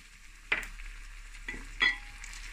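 Onion frying in a pan as water is added, with sharp bursts of sizzling hiss followed by a softer steady crackle, close and fairly loud with no talk.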